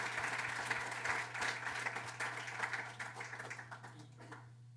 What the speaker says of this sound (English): let's give a round of applause to our beautiful